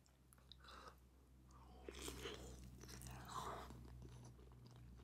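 Big bites of Indomie Goreng fried noodles and egg crunch and squelch close to the mic in a few quiet bursts of chewing, with no talking.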